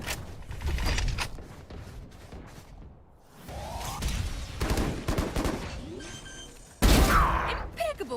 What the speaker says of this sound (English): Impeccable kill. Gale Kakashi with a clean headshot on Auto OP